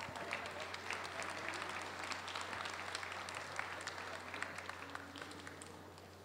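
An audience at the IFMAR R/C Drift World Cup 2018 awards ceremony gives sustained, even applause throughout, with a faint electrical hum underneath.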